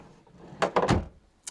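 An RV vanity drawer in a 2002 Liberty Prevost XL motorhome slides and thumps shut in a quick cluster of close rattling knocks, followed by a faint click after a brief pause.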